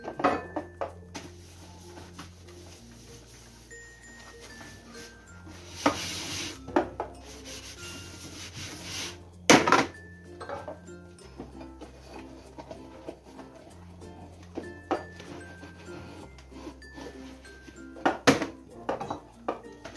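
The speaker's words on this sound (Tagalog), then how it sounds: "Hugas ako pagkatapos magluluto." Dishes, pots and pans being washed at a kitchen sink after cooking: scraping, rubbing and clinking of cookware and cutlery, close and intermittent, with sharp clanks now and then.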